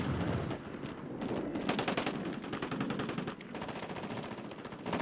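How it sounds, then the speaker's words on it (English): Rapid automatic gunfire in the Call of Duty Warzone video game, with dense strings of shots in fast bursts and a brief lull near the middle, close and fairly loud, with no speech over it. "we got another one shooting at us"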